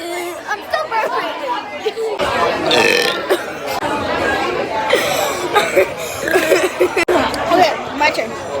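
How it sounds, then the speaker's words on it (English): Two friends take turns burping, drawn-out belches mixed with chatter and light laughter from the people present. "I'm still burping."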